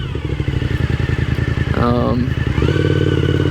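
Suzuki SV1000S V-twin motorcycle being ridden, with a loud, close lumpy engine pulse that smooths and rises in pitch as it revs, riding under a voice talking.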